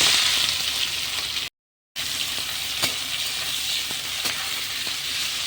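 Three large onions sizzling in hot oil in a pan with bay leaf while being stirred, a steady close frying hiss with occasional scraping clicks and a brief dropout partway through.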